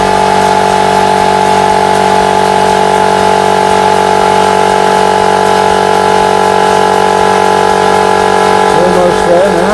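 An air compressor runs steadily and close, pumping up its tank after a drain valve was left open, with a constant motor drone and a slight shift in tone near the end.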